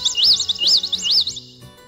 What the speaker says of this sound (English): Yep, it's a bird.